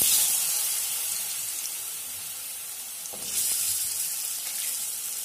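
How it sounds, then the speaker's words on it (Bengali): Small potato pieces fry in hot oil with turmeric, a bright hissing sizzle that eases slightly and then swells again, with a faint knock partway through and no talking. "আলুটাকে একটু ভেজে নেব।"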